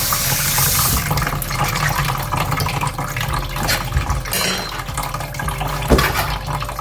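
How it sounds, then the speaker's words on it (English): Tap water runs steadily and fairly loud while an onion is rinsed under it at a kitchen sink, with a continuous splashing flow throughout and a few louder splashes. "And I rinse it off again."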